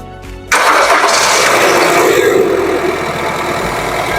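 A car engine catches after a quiet moment during a periodic service check and then settles into a loud, steady running hum for the remaining few seconds.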